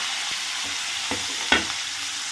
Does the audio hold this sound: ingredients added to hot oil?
yes